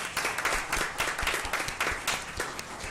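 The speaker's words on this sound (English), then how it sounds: "Let's give them a round of applause." Audience applause at a school board of trustees meeting, a steady wash of many hands clapping in a meeting room, fairly soft and continuous for the whole stretch.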